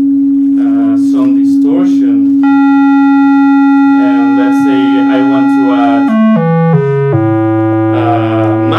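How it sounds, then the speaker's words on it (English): A synthesized delay effect with heavy feedback, its repeating sustained tone stepping downward in pitch as the delay length changes, loud and close, with someone speaking over parts of it. "You have a nice feedback of the delay when you're changing the delay length."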